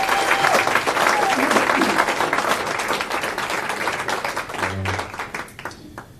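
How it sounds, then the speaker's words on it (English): Comedy show audience breaking into loud, sustained applause, a thick crowd of clapping with a few shouts mixed in, thinning out and scattering near the end. "How about we just clap for all law enforcement and all the troops and everybody?"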